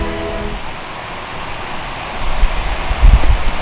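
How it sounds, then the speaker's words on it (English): Strong, blustery wind blows outdoors after a rainstorm, rustling and buffeting steadily. The gusts build louder toward the end, with heavy low thumps against the microphone. "Today it's super blustery out there."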